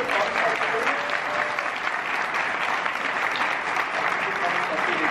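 Steady audience applause at the FKF Convention 2020 in the Europa Park Resort, a dense, sustained clapping from a large crowd that holds evenly throughout without a break.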